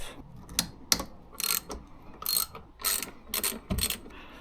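A ratchet wrench clicks in quick bursts, loosening 10mm bolts hidden behind plugs on a car's steering wheel during a steering wheel swap; the ratcheting is close and alone.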